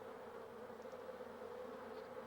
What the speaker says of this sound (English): Vigorous fanning of the wings produces currents of air which evaporate the water